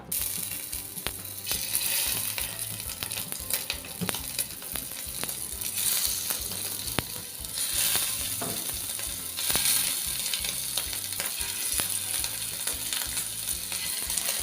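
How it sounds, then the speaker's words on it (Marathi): Stuffed bitter gourd frying in a small ladle of oil in a pan, a steady dense sizzle and crackle running throughout with occasional faint clinks, loud and close with no talk. "आता हे कारलं आहे ना आपल्याला फ्राय करून घ्यायचं आहे"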